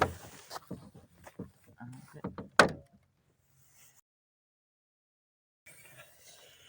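A BMW E46 3.0 touring car door is opened with a short clunk and latch sound right after someone speaks, followed by near silence.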